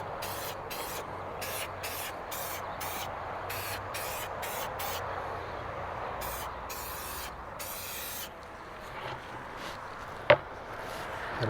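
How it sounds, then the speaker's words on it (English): Pig Spit protectant sprays onto faded plastic bike parts in a dozen short, crisp hissing bursts at close range, followed by a quiet pause and a single sharp knock. "So I'm going to spray that down, and I'm going to see how it looks."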